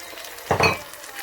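Tomato dropped onto garlic and ginger frying in oil for chicken dopiaza gives one brief burst of sizzle that fades quickly into a soft background hiss.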